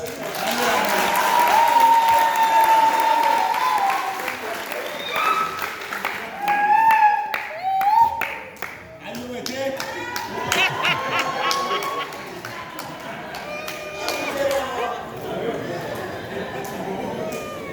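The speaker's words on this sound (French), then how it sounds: "Je veux voir les femmes qui applaudissent." Women in a church congregation clap in scattered bursts amid lively crowd chatter and laughter, the applause rising and falling throughout with voices talking over it.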